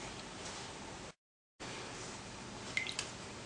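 Soft continuous trickle of water falling in a small homemade nativity scene waterfall, faint and steady with a brief gap of silence, then a few light drips near the end.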